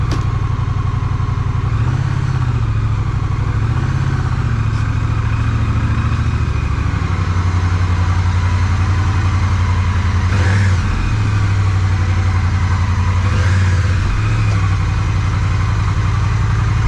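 A Honda Rebel 1100 DCT motorcycle engine running steadily at idle, loud and close, with a low throbbing drone and slight rises in revs, no voices.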